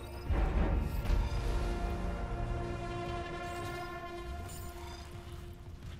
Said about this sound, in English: Tram station.